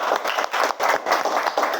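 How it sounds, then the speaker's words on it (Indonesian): A classroom of students claps hands together in brief steady applause, dense and close, with a loose pulsing rhythm and no talk over it. "Oke, tepuk tangan dulu untuk kita semua"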